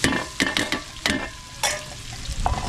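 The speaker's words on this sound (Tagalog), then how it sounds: "papupulayin ko lang yung bawang sibuyas natin" Garlic and onion sauté in oil in a pan at a fiesta cookout, with brisk scraping stirs at irregular intervals over a steady close sizzle, no talk.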